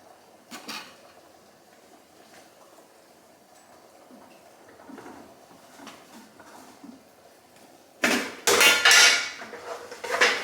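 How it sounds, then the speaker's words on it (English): Metal spatula scraping and clattering in a pan as excess oil is drained from cooked lean ground meat for baked spaghetti; soft intermittent clinks and scrapes, then a louder burst of clanking near the end, close by with no talking. "drain that oil, excess oil off. Get my spatula. So we're gonna drain that."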